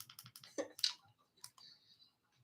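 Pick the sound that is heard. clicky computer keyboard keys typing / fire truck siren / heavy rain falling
clicky computer keyboard keys typing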